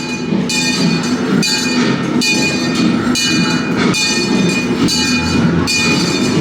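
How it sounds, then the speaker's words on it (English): A theme park train rumbles steadily along the rails at Europa Park, loud and close, with rhythmic clattering bursts repeating every second or so and no voices. "We're going on the train just down here now."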